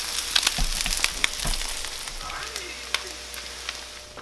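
Eggs frying on a Blackstone griddle in a garage, a steady close sizzle with soft crackles and a few scraping spatula taps throughout.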